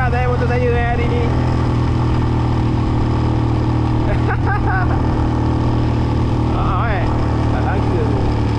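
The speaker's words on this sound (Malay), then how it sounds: "Kerja keras motor saya hari ni." Motorcycle engine droning steadily under load on a hard ride from Cameron Highlands toward Kuala Mu, with a constant low hum throughout, wind noise, and brief bursts of voices talking over it.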